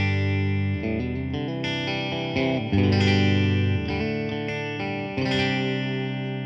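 Distorted electric guitar played through a Bad Cat boutique amp, a Black Cat or Hot Cat, rings out in sustained chords and notes with some effects, loud and alone, while the amp's cut control smooths the highs.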